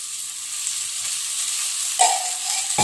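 Raw banana slices sauté in hot oil in a pan, producing a steady soft sizzle that carries on throughout, with a sharp stirring scrape near the end and no speech.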